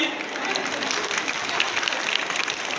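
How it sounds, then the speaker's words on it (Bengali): An audience at a school prize-giving ceremony claps for a second-prize award, a steady, fairly close burst of crisp applause that holds throughout. "সকলে জোরে হাততালি দিন।"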